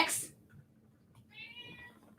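After a short noise, a pet cat gives a single clear meow at a moderate distance in an otherwise quiet indoor room.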